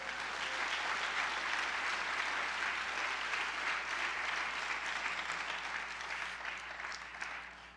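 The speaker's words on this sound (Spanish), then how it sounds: "¿Le puede dar un aplauso al Señor," A church congregation gives sustained, even applause in praise of the Lord, a thick steady wash of many hands clapping, easing slightly toward the end.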